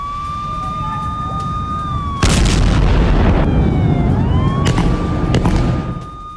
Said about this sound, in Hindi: जहां लगातार बमबारी कर रहा है इजराइल।